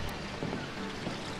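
Water flows through a bamboo garden at a hot spring hotel in Guguan, Taichung, Taiwan, giving a steady, continuous rushing wash with no breaks.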